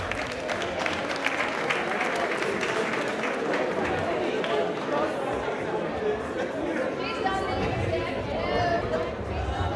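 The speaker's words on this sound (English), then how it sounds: "Round of applause for Courtney Noel." An awards-show audience at Brooklyn Borough Hall applauds for an honoree, dense clapping mixed with crowd chatter and cheering, continuous across the whole stretch and fading slightly toward the end.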